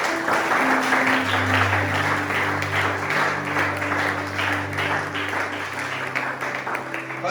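Worshippers at a French-language church service applaud the Lord, a dense, steady wash of clapping and cheering over a sustained low musical drone, loud and continuous throughout.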